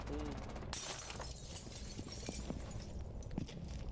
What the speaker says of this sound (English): You heard the glass smash.